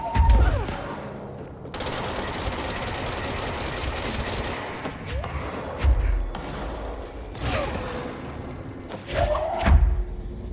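Gunfire in the video game Control pops in bursts with heavy thuds and impacts, the loudest volleys near the start and toward the end, over a constant game background.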